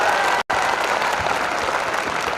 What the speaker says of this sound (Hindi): एक बार जोरदार तालियां आपसे।